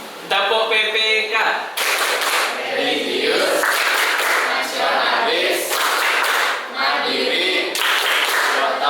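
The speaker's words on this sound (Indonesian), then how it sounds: "Yuk kita tepuk PPK dulu." A standing class of students performs the rhythmic PPK clap in a classroom, sharp unison clapping patterns alternating with loud group chanting, filling the room close and steady.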